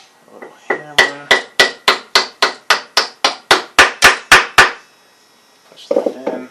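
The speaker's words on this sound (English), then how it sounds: "a little hammer" A small hammer taps on a Briggs & Stratton engine with no compression, about fifteen sharp, evenly spaced metallic knocks close up, followed by brief talking.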